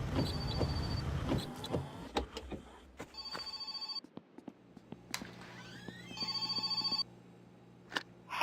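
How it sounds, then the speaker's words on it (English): A telephone bell rings in repeated bursts, close and fairly loud, mixed with sharp clicks and knocks in a quiet room. "I hear the phone again!"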